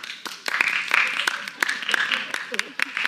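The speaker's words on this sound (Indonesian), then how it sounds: "tepuk tangan" Indonesian audience clapping in response at a live comedy show, a dense patter of many hands with scattered sharp claps rising and falling over about three seconds.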